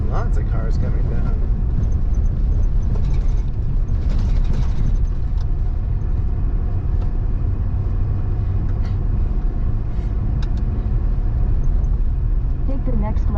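Traffic on a road near Encampment, Wyoming, a continuous roar of passing vehicles heard from inside a moving car, with people talking throughout.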